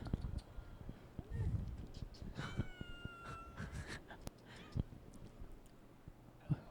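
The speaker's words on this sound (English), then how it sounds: "Get him to meow into the mic, please." A cat meows close to a microphone, giving several short, drawn-out meows in the middle of the stretch, surrounded by handling bumps, rustling and faint background voices.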